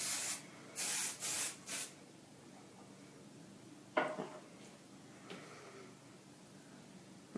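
Several short hissing bursts of hairspray in quick succession, close by, followed by quiet rubbing and a few faint handling taps.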